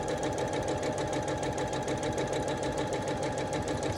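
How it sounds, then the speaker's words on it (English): A sewing machine stitching quilt pieces for a mystery quilt, running steadily at a fast, even, buzzing whir for the whole stretch, close and loud with no pauses. "This is really me sewing, and it happens, as y'all know."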